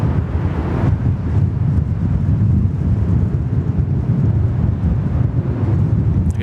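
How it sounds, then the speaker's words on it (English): Strong westerly wind buffets an outdoor microphone at Sydney Airport, a loud, continuous low roar and rumble with no pauses and no voices. "that wind's tough"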